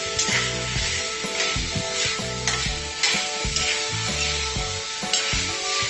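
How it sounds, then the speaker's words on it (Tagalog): Pork sizzles loudly with garlic in a hot pan, with a steady hiss broken by periodic stirring scrapes. "piniprito-prito muna natin yung"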